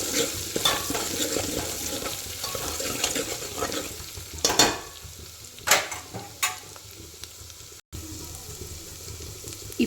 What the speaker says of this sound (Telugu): ఇప్పుడు ఇందులోనే అల్లం ఎల్లిగడ్డ పేస్ట్ కూడా వేసి నూనెలో కలిసేట్టు